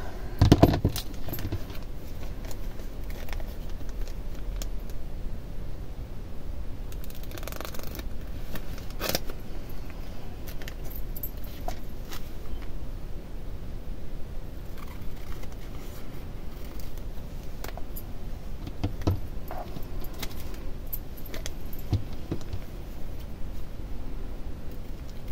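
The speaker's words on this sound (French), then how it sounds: "maintenant je vais découper au bord" Scissors cutting along the edge of decorated paper for a mini folio craft, a steady run of faint snipping and rustling close by, with no talking.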